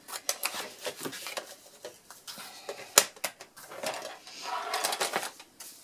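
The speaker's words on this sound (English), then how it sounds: "I'm just going to do that with the scissors." Scissors snip through cardstock for a gift box in a series of quick, close cuts, irregular in rhythm, with one sharp click partway through.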